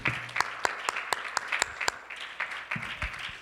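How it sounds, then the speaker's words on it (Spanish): A church congregation claps together for the Lord during a baptism service: a steady run of sharp, roughly evenly spaced handclaps fills the space, with faint voices in the background. "Let's give the Lord a hand clap."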